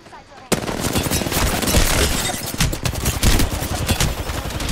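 Sustained gunfire in the battle royale game Apex Legends, a sudden start of rapid automatic shots hammering loudly and close, with overlapping bursts throughout.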